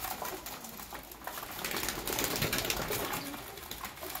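Pet pigeons, a keeper's master pairs, coo softly while rushing to their feed, amid a busy rustle and flutter of wings and feet, fairly faint and continuous.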